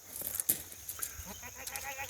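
Goats clearing overgrown land by eating it down, with brief bleats and rustling amid quiet outdoor ambience, one louder call near the middle.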